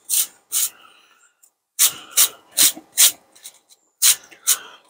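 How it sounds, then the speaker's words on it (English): A dahlia corm is scrubbed clean with a brush in sharp, close, bristly strokes. Two strokes come first, then a run of four, then two more, with short pauses between them. "Scrubbing brush, innit? I suppose. Clean that corm up as much as you can."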